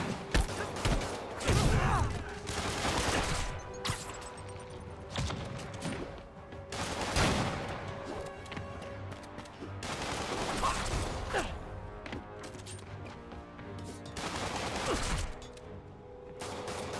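Bursts of gunfire ring out in Marvel's Spider-Man, heavy volleys of shots repeating every couple of seconds, loud and sharp against a busy game background.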